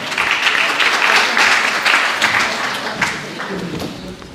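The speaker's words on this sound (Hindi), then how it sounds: "भरपूर तालियों में जनाब खालिद बाजवा साहब" Audience applause at a book launch and poetry gathering, a dense steady patter of many hands clapping, close and loud, slowly thinning toward the end with no voices over it.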